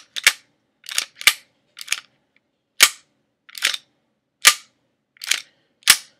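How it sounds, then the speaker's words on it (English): An M9 airsoft pistol, unloaded with no BBs, gives off a series of sharp, close mechanical clacks spaced irregularly across several seconds as its slide is worked, with quiet between each. "When I load it, I'll pull back the slide."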